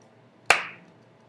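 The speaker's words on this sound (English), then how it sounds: "There's a clap." A single recorded handclap sample loaded in Soundtrack Pro: one sharp, bright crack with a short decaying tail, standing alone over a faint background hiss.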